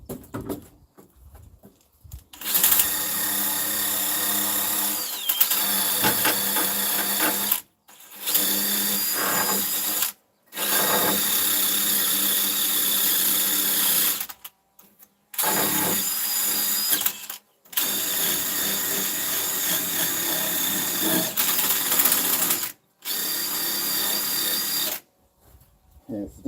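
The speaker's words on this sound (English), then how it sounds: "wire wheel it with a grinder too hard, it kind of polishes all the metal" A wire wheel on an angle grinder scrubs rust off the metal of a fire truck, a loud steady whir in several long bursts with brief pauses where the tool stops and restarts.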